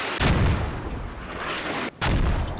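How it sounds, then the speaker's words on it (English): Heavy mortar rounds in a military shooter game, two deep booming impacts about two seconds apart, loud and rumbling with a lingering tail between them. "That's a great counter mortar right there."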